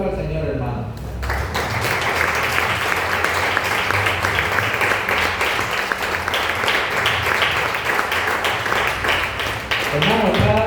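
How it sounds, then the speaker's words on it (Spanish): A church congregation applauds during a sermon, loud sustained clapping that swells in right after a preacher's voice and carries on for several seconds before a voice returns near the end. "Den un aplauso al Señor"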